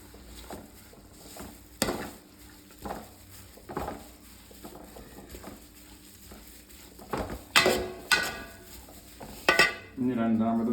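A spoon scrapes and stirs spice powders, chili, turmeric, pickle powder and roasted fenugreek, in a pan for beef pickle with the heat off. Irregular soft scrapes give way to a few sharper metallic clinks near the end.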